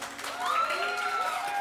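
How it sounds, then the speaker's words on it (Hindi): A studio audience on a television game show applauds and cheers briefly, the clapping joined by a rising musical sting and whistle-like tones, fairly quiet and short. "जिस ऑडियंस को लगता है कि इनकी एक बॉल थी वो तालियां बजाएं जरा"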